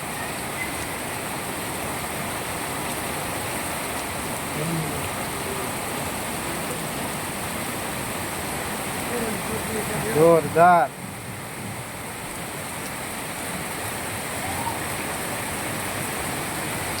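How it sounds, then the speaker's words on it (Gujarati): Heavy monsoon rain pours in Moti Gop, Gujarat, as a steady, dense rushing wash that fills the whole scene, with a brief voice exclaiming over it midway. "વરસાદની મોજ હો।"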